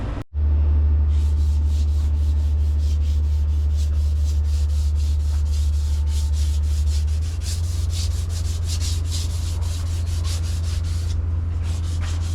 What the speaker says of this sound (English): here we are sanding the primer using 320 grit sandpaper